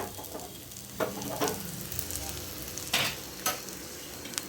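Vegetables sautéed in a pan for brinjal and tomato kathirikkai kothsu, a quiet continuous sizzle broken by several distinct stirring scrapes of a spoon against the pan.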